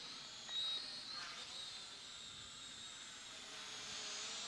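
RADCLO foldable camera drone flying, a faint high-pitched steady propeller whine with soft hiss, distant and thin throughout.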